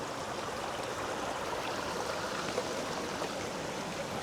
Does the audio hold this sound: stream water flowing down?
yes